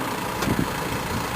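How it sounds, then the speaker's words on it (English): A tractor engine runs steadily at a slow pace while pulling a Princeton planter loaded with Green Giant trees, a constant mid-level engine drone. "The tractor is always going to move at a slow rate"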